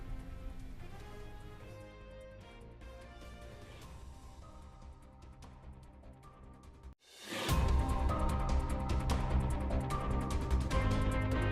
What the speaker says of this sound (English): Check out this video from Wendy Munson showing her daughter kayaking down the street during last night's downpour